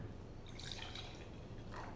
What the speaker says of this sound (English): So we're going to start with 60 mils of gin. I'm using a measuring cup